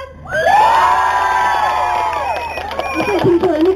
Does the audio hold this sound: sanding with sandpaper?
no